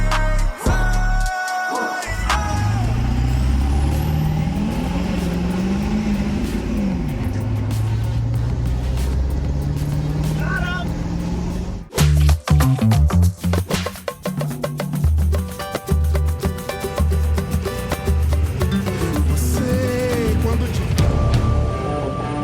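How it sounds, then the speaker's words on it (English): A 7.3 Powerstroke diesel truck engine fitted with 238s and a Casey Stage 2 setup makes a wide open throttle pull: a loud, close roar whose pitch climbs repeatedly through the gears, with a brief dip partway through. "Let's do a wide open throttle pull."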